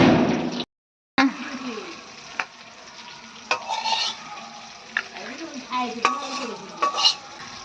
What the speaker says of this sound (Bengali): এদিকে দেখো হয়ে গেল শিম ভাজা